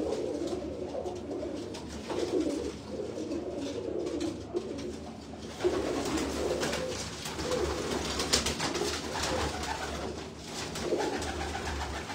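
Pigeons cooing at a loft in Faisalabad, soft repeated low coos overlapping one another at close to moderate distance, steady over a faint outdoor background.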